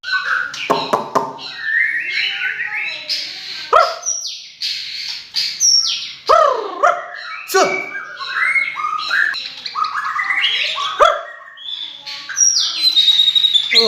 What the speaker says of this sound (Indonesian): Gila ini burung mewah nih, mewah.